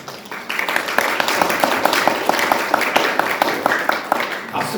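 A school chapel congregation claps after a worship song, the loud, close claps falling into a steady, even rhythm for several seconds over a wash of crowd noise.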